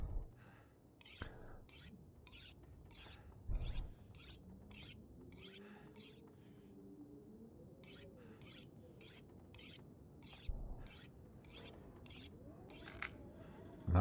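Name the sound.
sharpening a hatchet on a whetstone in the video game The Long Dark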